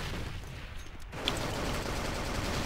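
Rapid bursts of gunfire in the video game AVA crackle in a dense, noisy barrage, briefly dropping out before the shooting resumes at full intensity.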